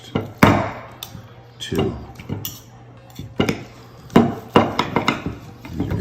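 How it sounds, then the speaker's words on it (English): A knife cuts a birthday steak for a dog, giving sharp irregular chops and knocks against a board or plate, close and loud, with a person talking between the cuts. "This is your birthday steak. Let me cut one for me first."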